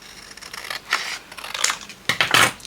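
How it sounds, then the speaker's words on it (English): Scissors snip during a craft project, with several crisp, separate cuts spread across a few seconds and a louder pair of snips close together near the end, all near and without talk. "I'm going to cut that off here."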